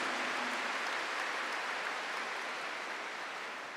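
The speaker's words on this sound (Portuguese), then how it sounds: "Aplauda essa palavra." A church congregation applauding during a Catholic sermon: steady, dense clapping from a large crowd that keeps an even level throughout and fades slightly toward the end.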